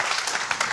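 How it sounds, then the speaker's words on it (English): Brief burst of applause from a television studio audience, many hands clapping in a dense, steady patter at moderate volume, with no voices on top. "Can we have a round of applause for the strangers on a model train?"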